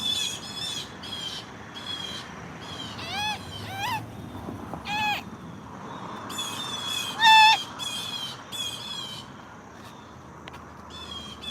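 Several birds, owls among them, squawk, hoot and chirp repeatedly in short bursts, fairly close, with one loud sharp call standing out near the end, set over a steady background hum.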